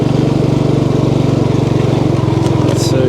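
A motorbike rides a loose gravel and sand dirt track on Phu Quoc Island. Its engine drones steadily and close, with a rapid pulsing rumble and a constant rough crunch underneath.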